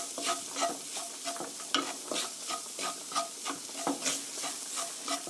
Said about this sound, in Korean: 밀가루가 약간 들어가서 볶이면 고소한 맛이 나니까 이렇게 해서 볶아주세요.